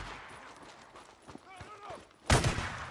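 Covering gunfire in Days Gone, a sudden loud burst of close shots near the end after quieter shuffling and shouted voices.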